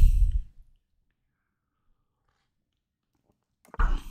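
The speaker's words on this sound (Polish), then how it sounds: "Wybaczcie za siorbanki." Coffee slurped close to the microphone, two short wet sips separated by several seconds of silence.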